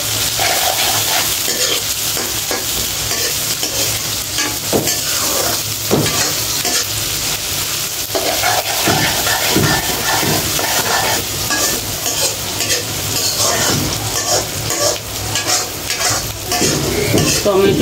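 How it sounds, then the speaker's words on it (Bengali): Onion, potato and garlic sizzle steadily in a hot pan while being stirred, with repeated scraping and clinks of the utensil against the pan throughout, close and continuous. "পেঁয়াজ, আলু, রসুন একটু ভাজা ভাজা করে নিই।"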